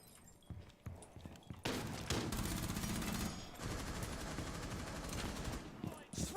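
Rapid gunfire in a Rainbow Six Siege round, with loud sustained bursts after a quieter opening of scattered clicks and thuds, pausing briefly near the middle and then resuming.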